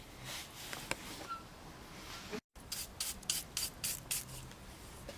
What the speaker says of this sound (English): Right, so I've just filed the centre out now.